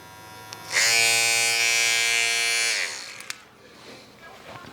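Electric hair clippers buzz steadily at close range for about two seconds, then switch off, leaving faint handling noise.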